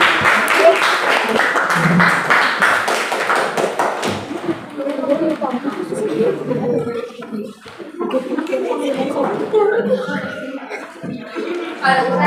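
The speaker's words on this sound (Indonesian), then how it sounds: "Tepuk tangan buat kelompok." Classroom applause for a student group, a dense burst of clapping for about four seconds, then fading into chatter and murmuring voices with scattered claps and laughter.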